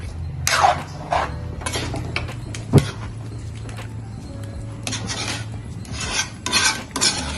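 Onion, garlic and ginger paste being stirred for butter chicken, with scraping and rasping strokes in a pan coming at irregular intervals and one sharper clink near the middle, close and moderately loud with no one talking.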